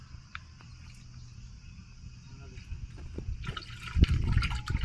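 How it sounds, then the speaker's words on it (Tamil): Cooking oil pours into a clay pot, a faint trickling and gurgling that swells near the end amid low background noise. "இன்னொரு லிட்டர் எண்ணெய் ஊற்றிக்கலாம்பா"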